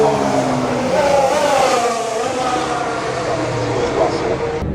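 Loud, continuous engine roar of Formula 1 race cars at the Melbourne circuit blending together, rising and falling slightly, with voices talking underneath throughout.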